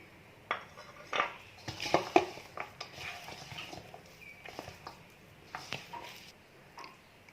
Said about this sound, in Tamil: மசாலா வந்து எல்லா புடலங்காயிலையும் ஸ்ப்ரெட் ஆகுற மாதிரி நல்லா பிசைஞ்சிருங்க